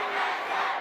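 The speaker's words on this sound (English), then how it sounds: "The Canadian chants are deafening." A Canadian crowd chanting loudly at the kendo world championship finals, a dense roar of many voices filling a large hall, brief and continuous.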